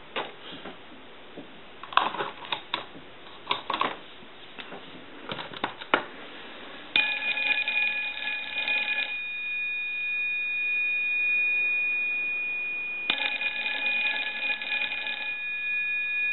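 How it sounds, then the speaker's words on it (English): Scattered clicks and handling noises, then the bell of a Kellogg Redbar rotary wall telephone ringing in two long bursts separated by a pause, loud and sustained. "I'll go ahead and ring the telephone."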